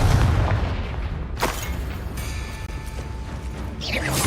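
A Confringo spell explosion in Hogwarts Legacy, with a sharp blast and rumble among mechanical clanks and creaks, followed by another burst near the end.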